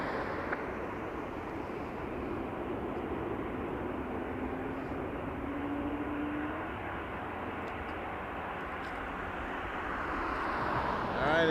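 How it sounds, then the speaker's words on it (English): Jet engines spool up at Toronto Pearson Airport at night, a faint, steady distant roar that swells slightly near the end. "I just heard engines spooling"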